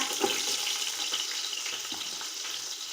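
Medium onions, sliced lengthwise, go into hot oil for a vegetable biryani and give off a steady, close hiss of frying, with faint stirring clicks throughout and no talk.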